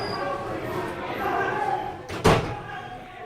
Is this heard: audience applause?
no